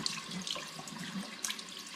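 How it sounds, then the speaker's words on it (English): Tap water running steadily into a sink while mead bottles are rinsed of sticky residue, a soft continuous splash with small glassy knocks, close and alone. "I now need to give them a rinse because they've got sticky residue on and I want them clean"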